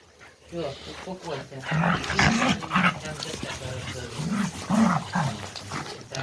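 Several small dogs bark and growl in a lively, continuous jumble close by on a walk over grass, with a person's voice speaking over them.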